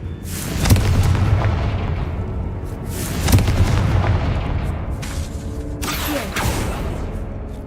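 Spell explosions blasting in Hogwarts Legacy: three loud, heavy booms spaced a few seconds apart, each followed by a long rumbling decay over continuous game noise.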